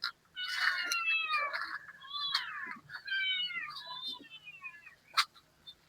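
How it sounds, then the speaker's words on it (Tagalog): A pet cat meows repeatedly and loudly in a run of drawn-out, insistent cries close by, with a few sharper calls near the end, during a night of heavy rain and wind. "ingay-ingay ng ating pusa"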